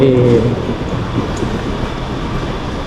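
A Red Line electric commuter train in Bangkok rumbles steadily nearby with a low mechanical drone, a brief louder hum at the start, and faint station ambience throughout.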